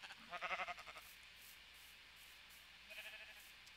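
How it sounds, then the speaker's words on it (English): Sheep bleating in a video game, two faint wavering bleats separated by a pause, heard against a quiet steady background hiss with no talk. "Aw, man, I really hate sheep."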